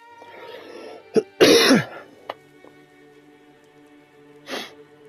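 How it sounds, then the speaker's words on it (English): A person clears their throat and coughs in a few sharp, close bursts, with a soft hum in the background and no talking. "excuse any coughing I do"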